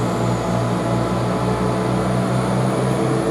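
A Class 170 diesel train departs Tamworth station with a steady, droning engine throb and a low rumble that holds loud and even throughout, with no voices.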